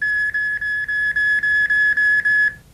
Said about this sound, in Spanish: Esta alarma nos informa si se acerca mucho.